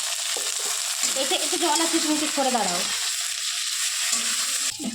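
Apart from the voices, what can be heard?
cashew nuts frying in a pan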